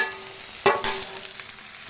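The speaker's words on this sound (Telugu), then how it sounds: "ఇలా ఉప్పు పసుపులో కొద్దిగా ఉడికిన తర్వాత సన్నగా తరిగి ఉంచుకున్న టమాటా ముక్కలు వేయాలి." Chopped tomato pieces drop into a pan of eggplant curry with salt and turmeric, giving a sharp sizzle and a stirring clatter that settle into a steady, fairly close frying hiss.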